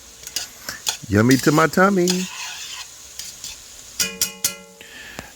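Chicken and vegetable pot pie filling is stirred in a pot, with soft scraping and sizzling under a burst of sing-song talk, followed by a few clinking utensil hits near the end.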